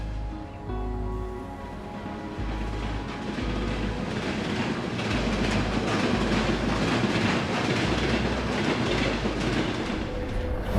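A freight train rolling in on a railway siding in Kazakhstan, a continuous rumble with rhythmic clickety-clack of wheels on rail joints that swells slightly as the cars pass near.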